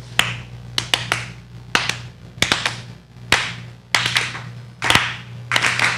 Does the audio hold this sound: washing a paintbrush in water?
no